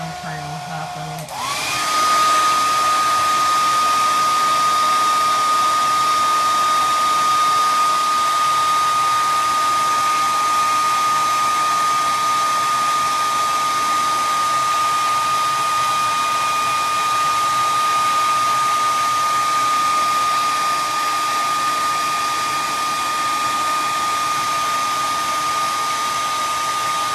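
A heat tool blows on small decoupaged wooden Christmas ornaments: a steady, loud rushing whoosh with a faint whine starts about a second in and runs unbroken to the end, with no talk.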